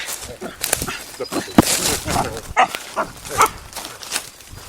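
A dog on a leash barks in several sharp bursts during an outdoor run, with a person speaking over and between the barks.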